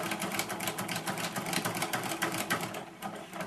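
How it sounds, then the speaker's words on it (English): A sewing machine stitches a quilted Fourth of July placemat, giving a continuous, fast, even mechanical whir with a rapid stitching pulse, close and steady throughout. "And now start right at the edge again and keep sewing."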